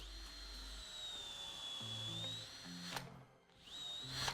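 A power drill with a roughly 4 mm bit whines steadily at a high pitch as it bores into wood, briefly slowing before spinning back up.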